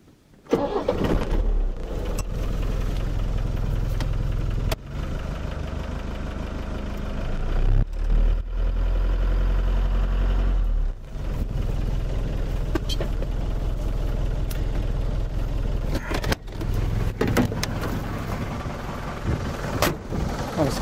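An Iveco van with low compression, treated with an engine additive, idles at a standstill, its diesel engine giving a loud, steady low rumble for the whole stretch, broken by a few brief knocks and dips.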